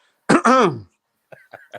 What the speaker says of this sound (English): I'm going to clear my throat one more time.